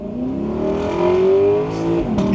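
A 2025 Lexus LC 500 Convertible's V8 revs up in one loud, close, rising roar that holds and then drops off sharply, with no talking.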